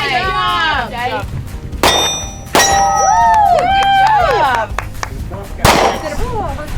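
Gunfire on command at the Gunsite training range: sharp broadband cracks near 1.8, 2.5 and 5.6 seconds stand out over a busy outdoor background with ringing, whistle-like tones and people talking.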